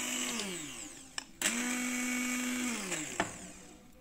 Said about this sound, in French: on va venir mixer ma substance glueuse